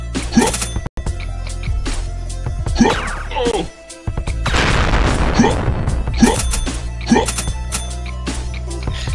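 Gunfire in the browser game Johnny Upgrade booms out in heavy, blasting bursts over continuous game music, close and loud, with a few sharp pops spread across the stretch.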